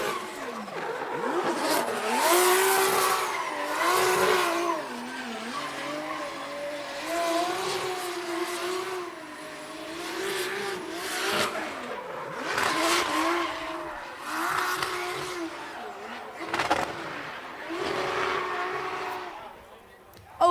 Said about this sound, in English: Always a pleasure to see and hear that Supra taking a turn around the track.